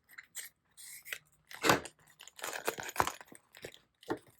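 Scissors snip along the bottom seam of a TPU pouch, close up, in a run of sharp crisp cuts and crinkly rustles of the plastic, spaced irregularly with brief pauses between.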